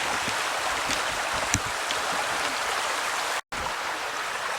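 Steady creek water rushes and burbles along the stream at Tucquan Glen Nature Preserve, a continuous close wash with a couple of small splashes and a momentary dropout near the end.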